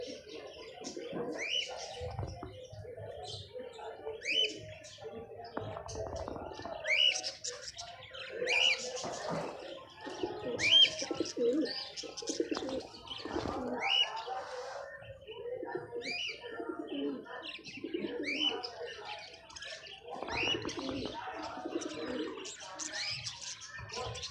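Pigeons cooing in a dense, overlapping chorus, close by and continuous, with soft rustling and a few sharper calls mixed in.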